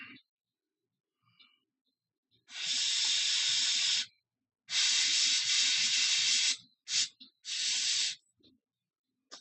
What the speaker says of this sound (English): What are you doing, airbrush?